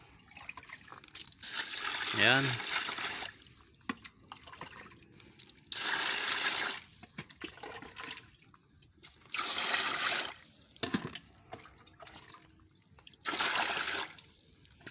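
Water is poured over sorghum grains to soak them, in four separate loud splashing pours of a couple of seconds each, separated by quieter gaps, with a person speaking briefly.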